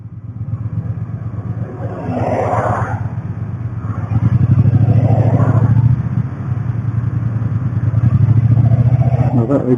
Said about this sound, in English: Now that exhaust is rather nice.